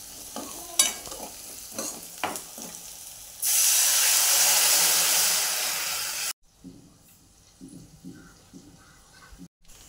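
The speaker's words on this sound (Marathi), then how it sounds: "ह्याच्यामध्ये लगेच पाणी ओतून घ्यायचं आहे।" Water is poured into a hot pan of fried peanuts with turmeric and salt while making rava upma, setting off a loud, steady hiss and sizzle that lasts about three seconds, then cuts off to quiet stirring and faint clinks.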